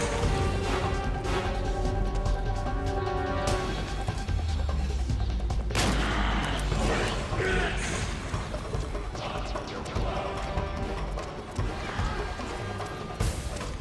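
Gunfire in Metal Gear Solid 4: Guns of the Patriots, dense continuous battle noise with bursts of shots, crashes and mechanical clatter, loud throughout with a sharp impact partway through.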